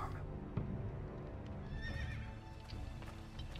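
A horse in a Game of Thrones video game gives a clear, close neigh with whinnying, and hooves clip-clop beneath it.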